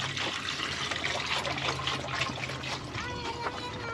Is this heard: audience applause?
no